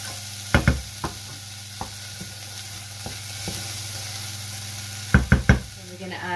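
Chopped vegetables sweat in a hot pan for vegetarian baked eggs, giving a steady close sizzle broken by a few sharp knocks and scrapes as a utensil stirs them.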